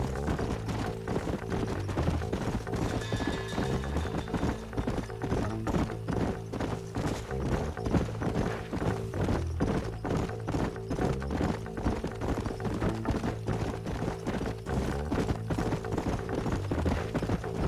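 Horses gallop in the video game Red Dead Redemption, their hooves beating in a fast, steady clip-clop rhythm that stays loud and close throughout.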